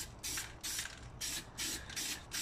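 Spray paint hisses in short repeated bursts onto car brake calipers, about five close, steady blasts with brief pauses between them.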